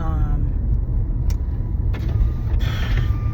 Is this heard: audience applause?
no